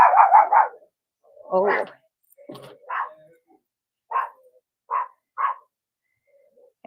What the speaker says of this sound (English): What you barking at? Is there something up there?